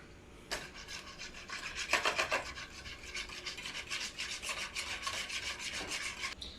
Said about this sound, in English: Then, I'm going to whisk it together.